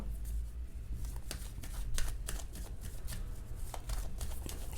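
Tarot cards being shuffled in the hands, a continuous close riffle of soft papery flicks and taps with no talking over it.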